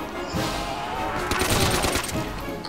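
Gunfire in Call of Duty: World at War Zombies, a cluster of close, rapid shots bunched near the middle over a busy game background.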